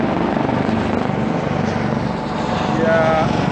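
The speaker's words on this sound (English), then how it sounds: "I live on a commuter route of helicopters between Manhattan and LaGuardia Airport." A commuter helicopter on the Manhattan–LaGuardia route passes overhead in a New York neighborhood, giving a steady, broad rotor-and-engine roar that stays loud for the whole stretch.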